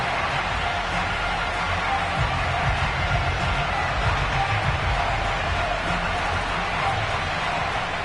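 Home crowd at a Miami Dolphins football game against the Las Vegas Raiders, a steady dense roar of cheering and noise filling the stadium without pause.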